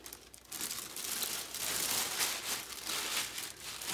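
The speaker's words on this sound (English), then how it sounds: "I just kind of crumple it up and put it in the bottom like that." White paper crumpled by hand and pushed into the bottom of a tumbler cup, a steady close crinkling rustle that runs for several seconds without talk.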